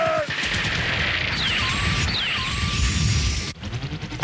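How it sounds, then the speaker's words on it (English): Anime combat scene with all units firing at once, a dense, loud barrage of rapid gunfire layered with whooshing and crashing effects, broken by a sudden drop and then renewed sharp bursts. "All units fire."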